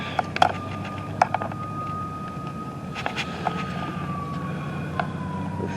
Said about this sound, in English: The sirens are going off like crazy.